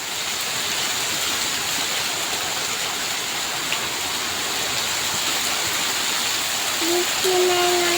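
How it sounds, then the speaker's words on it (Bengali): Steady rain falls outdoors in a village, a dense even hiss of drops that stays loud and unbroken throughout, with a brief faint tone near the end. "এই যে বৃষ্টি নেমে গেছে গা দেখো।"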